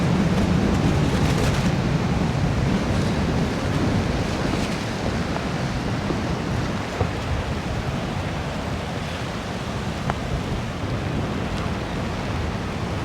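Wind-driven surf pounds a stormy shoreline on a rainy coastal wild camp ahead of Storm Alex, making a constant, close roar of waves and gusts that eases slightly toward the end.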